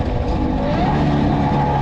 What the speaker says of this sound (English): This moped